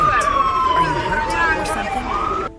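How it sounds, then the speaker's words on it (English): Emergency vehicle sirens wail loudly during a Prague rescue crew readiness exercise, a steady falling then rising tone held through the clip with some crowd murmur beneath. "Siren wailing cars drew the attention of passers-by."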